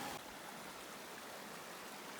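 A mountain creek flows beside a rooty hiking trail in the Kananaskis, Rockies, giving a steady, close, full rushing of water that holds even and unbroken throughout.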